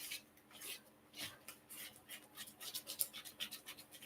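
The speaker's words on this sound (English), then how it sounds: "So now I'm mixing it." Zucchini cake batter made with coconut flour and whey protein powder is mixed by hand in a bowl, giving soft, quiet scraping and tapping strokes that quicken toward the end.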